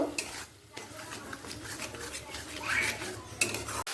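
Tomato masala being stirred and fried in a pan for a Bengali prawn and jackfruit dish, with steady scraping of a spoon against the pan over a soft sizzle, fairly near and continuous with small clinks.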